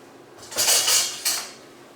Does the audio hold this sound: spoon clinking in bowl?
yes